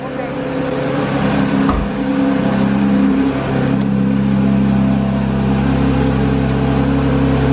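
A 2018 Porsche 911 GT3 with a manual gearbox pulls away, its engine a loud, close, steady drone with a brief dip early on, then settling into a sustained tone.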